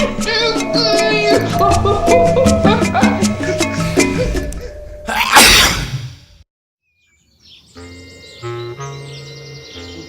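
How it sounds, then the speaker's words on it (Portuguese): A single sharp, loud sneeze bursts out over playful orchestral music, followed by a moment of silence before quieter music returns. "senti que mais um espirro estava vindo"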